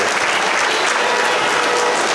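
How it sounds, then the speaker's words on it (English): Steady, dense applause from an audience at a Rotary International District 3181 event, honoring the masters of ceremonies; loud and continuous throughout with no talk over it. "Let's have for the Master of Ceremonies a round of applause for the way that they are conducting this program, friends."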